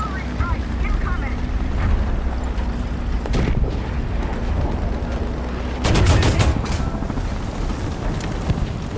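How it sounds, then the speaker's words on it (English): Artillery strike explosions in the War Thunder video game: a sharp blast lands mid-way, then a heavier cluster of booming impacts rolls in near the end over a steady low engine drone. "Artillery strike incoming."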